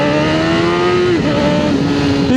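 Honda CBR 1000RR Fireblade sport motorcycle accelerates hard, its engine loud and close with a rising whine that drops briefly on a gear shift, then climbs again.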